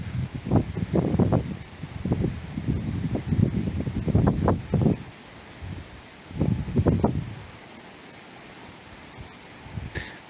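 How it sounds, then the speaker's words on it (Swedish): Strong wind gusts buffet the microphone outdoors at an abandoned cemetery, coming in loud rumbling bursts that fade, then return before dying down. "Det blåser ordentligt."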